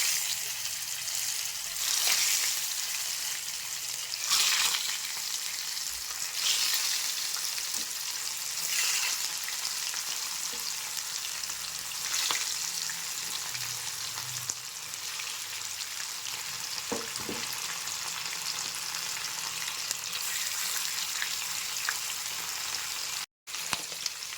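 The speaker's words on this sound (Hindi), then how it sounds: "तेल गरम हो गलानी एथिरे एबे माछ को देदेबा" Marua fish fries in hot oil in a kadai, a continuous loud, crackling sizzle that holds for the whole stretch. Occasional soft spatters and faint utensil taps rise above it.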